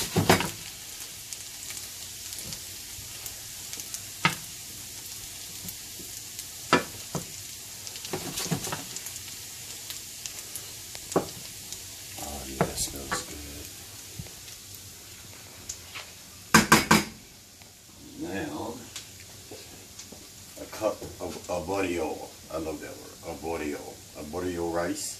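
Diced vegetables sweat in a pan for shrimp and lobster risotto as a spoon stirs and scrapes, giving quiet sizzling and occasional sharp clinks against the pan under ongoing talk.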